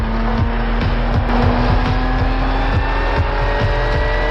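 Loud, close car engine with a steady drone and rhythmic thumping as a vehicle drives off in a film, continuous for a few seconds with no talking.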